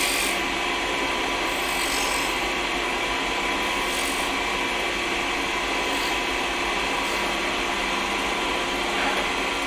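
Wood being cut and shaped on a lathe while turning a wooden snowman, a steady, loud rasping scrape that runs unbroken and close throughout, with no talking.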